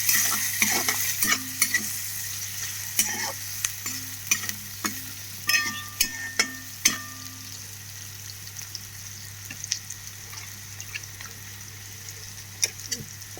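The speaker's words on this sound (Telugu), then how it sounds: "ఇది కొంచెం వేగాలి ఆనియన్స్." Onions frying in a pan for a village-style raw banana curry, a steady close sizzle beneath repeated sharp clacks and scrapes of a spoon stirring against the metal, with a low steady hum behind it.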